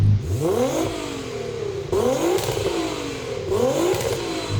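A 1,000 horsepower Nissan GT-R engine in a video game revs hard three times in a row, each rise in pitch climbing then dropping, loud and close, with no talking.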